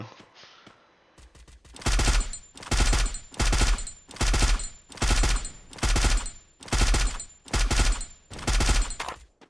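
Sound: gunfire in the video game Free Fire

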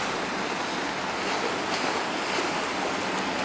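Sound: boat traffic on canal water

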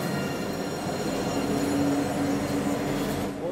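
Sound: tram arriving at Nottingham station

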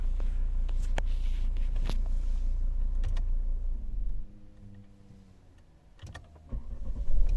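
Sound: Volvo V70 2.0 D4 diesel engine starting

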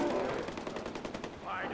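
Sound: gunfire in Far Cry 4 video game

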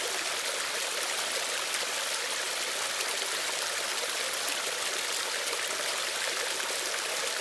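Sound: water and air pushed through a Grayl water filter purifier

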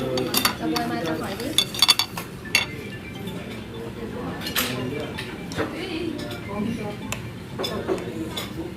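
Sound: scooping cooked snails out of a pot

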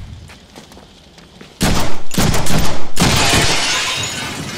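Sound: gunshots shattering elevator window, Deadpool video game

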